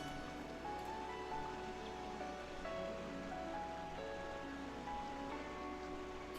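Steady, soft rushing white noise of several waterfalls feeding a pond among huge cliffs in a video game, continuous and faint with a light background music tone and no talk.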